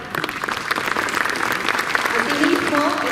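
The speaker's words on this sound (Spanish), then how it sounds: "que le demos la bienvenida con fuertes aplausos" An audience at a parents' talk applauds to welcome a psychology researcher, steady broadband clapping filling the room, with a voice heard briefly near the end.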